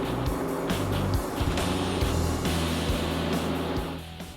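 Dodge Challenger accelerating hard on a driving course, a loud close engine roar with repeated rising pitch sweeps through the gears, easing off at the end.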